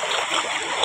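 Fast-flowing river water rushes and splashes in a steady, loud wash during a swimming outing on Nag Panchami, a dense close roar of current with no clear voices.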